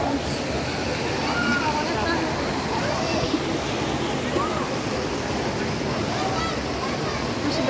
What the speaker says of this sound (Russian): Это фонтан.